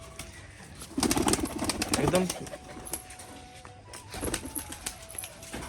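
Pet pigeons, including a male bird kept for sale, coo and flap their wings in two bursts of noisy fluttering. A person speaks briefly nearby.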